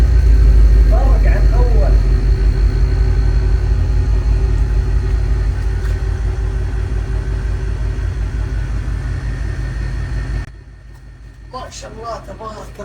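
Porsche Panamera engine running at home, a smooth steady low idle rumble close by that carries for most of the stretch before dropping abruptly, with a voice speaking over it.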